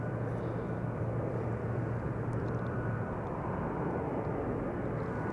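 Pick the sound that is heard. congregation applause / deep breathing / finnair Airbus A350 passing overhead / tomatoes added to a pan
finnair Airbus A350 passing overhead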